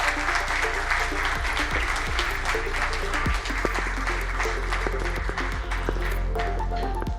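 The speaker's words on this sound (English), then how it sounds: "Come on, let's give them a round of applause." Audience applause for a conference panel, continuous clapping over a low steady hum in the room, moderately loud and sustained throughout.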